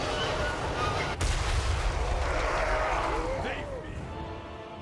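A hell cannon fires in a Warhammer battle game, one sharp heavy boom followed by rumbling battle noise and a whooshing projectile, with voices over the din.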